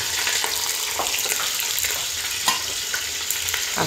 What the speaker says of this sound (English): I don't want my oil to be too hot, because I need it red. I'm putting my onions inside.